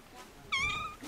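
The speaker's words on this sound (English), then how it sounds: "Hello, kitty, kitty. Hello, pretty cat." A cat in Peru gives one clear, close meow lasting about half a second, rising out of quiet background noise.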